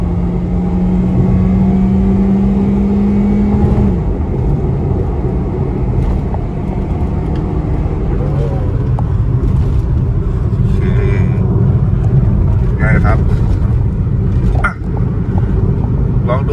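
A remapped Toyota Vios G2 with a stock exhaust, running E20 fuel on 15-inch wheels, pulls through the gears with a loud, steady engine drone and rising revs, someone talking over it.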